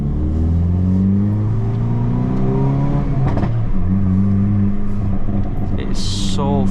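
A loud Hyundai i30N Facelift engine drones steadily while driving, its pitch sliding up and down through the gears with a sharp rise in revs near the end.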